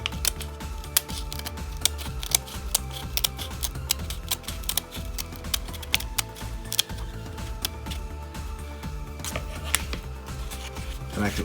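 Scissors snip and nibble away the plastic of an Action Models F-16 model kit part, a rapid irregular series of small sharp clicks and crunches close to the microphone, steady throughout with no talking.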